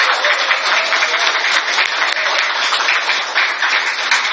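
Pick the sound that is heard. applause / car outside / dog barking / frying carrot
applause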